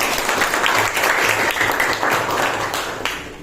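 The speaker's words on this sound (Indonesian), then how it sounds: "Tepuk tangan untuk kita semua." A room full of people clapping steadily, dense and continuous applause that fades slightly at the end, with a murmur of voices beneath.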